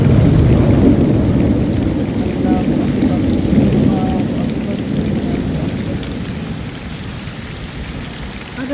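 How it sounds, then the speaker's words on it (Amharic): Heavy rain falls in Saudi Arabia with rolling thunder, a loud, continuous downpour and deep rumbling that holds steady throughout. "ይሄንን ይመስላል ዛሬ ስዑዲ ዝናብ ይሄን የመሰለ ዝናብ አውርዶልናል"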